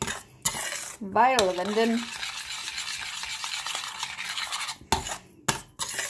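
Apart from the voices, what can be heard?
stirring milk into a pot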